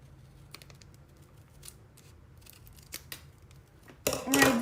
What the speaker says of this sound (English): you just want to take a pair of scissors and cut it